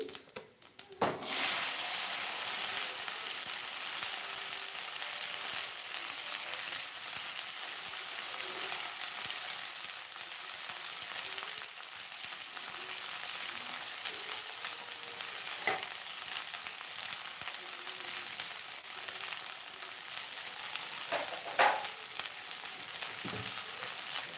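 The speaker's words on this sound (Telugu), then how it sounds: "ఇప్పుడు ఇందులోకి సన్నగా కట్ చేసుకున్న బెండకాయని వేసుకోవాలి" Thinly sliced okra frying in a pan for a dry, non-sticky okra curry, a steady loud sizzle throughout with occasional stirring clatters, no talking.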